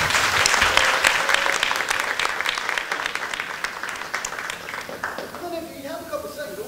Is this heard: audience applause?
yes